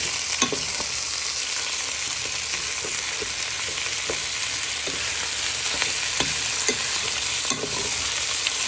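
Bacon and sausages sizzle steadily in a frying pan as a utensil stirs them, with scattered scrapes and clicks against the pan over a constant crackling hiss, close and fairly loud, no talking.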